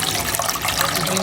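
Water is poured into a cooking pot to steam crabs, a loud, continuous splashing gush filling the whole moment up close.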